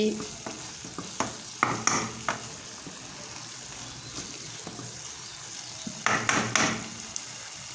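Leafy wild vegetable cooks in a pan with a soft sizzle, broken by scattered sharp clinks and scrapes of a utensil stirring against the metal. No one speaks.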